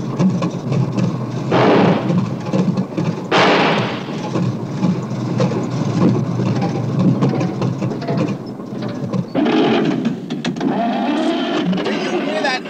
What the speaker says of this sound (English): Do you hear that engine?